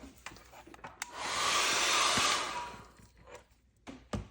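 Hair dryer blowing on wet paint on a mixed media artwork: a loud, steady whoosh that runs for about a second and a half, with small taps and handling noises before and after.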